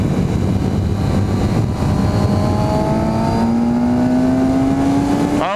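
A Suzuki GSX-S 750 motorcycle engine revs up under acceleration on a road ride, its pitch climbing steadily through the gear and staying loud and close over constant wind rush, with a brief shift near the end.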